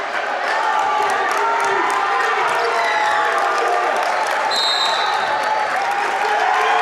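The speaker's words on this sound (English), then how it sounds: "As the St. Croix Falls parents up and cheering, as they should be" Parents in the stands at a girls' regional basketball game with St. Croix Falls leading late, a steady roar of crowd cheering and clapping filling the gym, with a commentator's voice over it.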